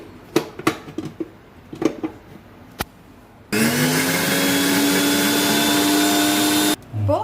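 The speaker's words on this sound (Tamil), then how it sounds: "அந்த 2 தேங்காய் எடுத்து வச்சல அதை வந்து மிக்சியில் சேர்த்து நல்லா அரைச்சிக்கணும்" Mixer grinder blending two coconuts for Kerala-style pori kulambu: after a few clinks, the motor starts with a loud, steady whirring roar for about three seconds and then cuts off abruptly.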